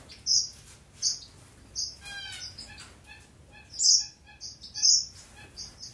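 Birds in an aviary chirp and tweet close by, with repeated bright calls and a rapid trill in between, clear against a quiet background.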